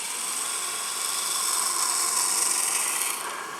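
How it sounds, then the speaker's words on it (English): A drill boring a stem hole into the end of a wood-turned flower gives a steady, close rasping whir that holds through the clip and builds slightly before easing off near the end. "So I'm going to drill the hole for that now."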